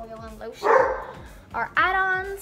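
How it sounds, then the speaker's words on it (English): A dog barks a few times indoors, somewhat in the background, with short sharp barks and a whine-like yelp heard over and between a person talking. "Sorry if you can hear my dog barking."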